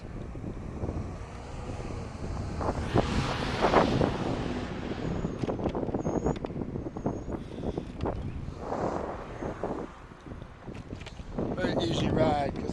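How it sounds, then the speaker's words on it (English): Strong wind buffets the microphone of a rider cycling into a warm spring headwind, a continuous rough roar with gusty surges and some rattling. "You can hear the wind probably."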